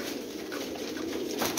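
Large-bodied pigeons coo at close range, a low, soft, murmuring coo over a steady background hiss.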